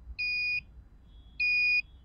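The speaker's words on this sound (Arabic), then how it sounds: "أيوة اه كده العربية بتدي انذار" A child's invented drug-detection device for cars sounds its alarm: two clear electronic beeps, each lasting about half a second, separated by a short gap, fairly quiet and on their own.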